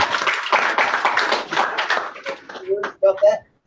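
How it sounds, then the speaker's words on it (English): Audience applause at a company Founder's Day event, a brief burst of dense clapping from a group that thins into a few scattered claps and then stops, close and moderately loud. "Let's give them a clap."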